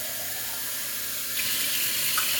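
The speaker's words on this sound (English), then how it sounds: "I need to fill these water bottles." Water pours from a tap into water bottles as they are filled, a steady hiss and splash that brightens partway through as the flow or fill level changes. No voices are heard.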